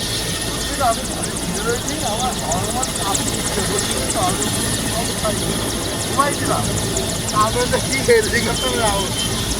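Prime Minister Narendra Modi's helicopter lands at Taherpur with a loud, continuous rotor drone overhead, while a crowd's voices chatter throughout.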